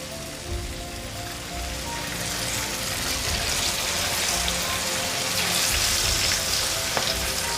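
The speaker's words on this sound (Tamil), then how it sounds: "நான் இப்போ எண்ணெய் வந்து நல்லா சூடாக பண்ணி வச்சுருக்கேன். ஸோ அதில் பொரிச்சு எடுத்துடலாம்." Marinated chicken 65 pieces deep-fry in hot oil in a kadai, giving a steady, dense crackling sizzle that holds throughout and swells slightly toward the end.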